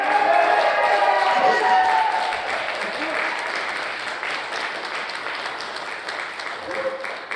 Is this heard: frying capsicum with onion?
no